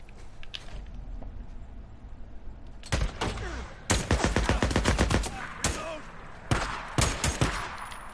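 Video game gunfire, with scattered shots early, then rapid bursts of automatic fire and sharp repeated cracks from about three seconds onward, loud and close over low background ambience.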